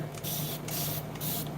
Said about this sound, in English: take a mister bottle, or you can do a wet rag, but then you just want to kind of spray it